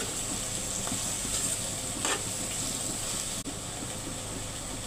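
Bitter gourd pieces fry in a pan with a loud, continuous sizzle that holds steady throughout, broken by a few brief utensil touches and one short dip, with no one talking.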